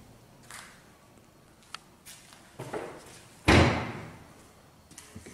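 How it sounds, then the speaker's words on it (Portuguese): Inside a sinister old shed, a door bangs shut with one loud, close slam and a short rumbling decay, preceded by several smaller knocks and creaks, then quieter thuds after. "Essa porta bateu sozinha"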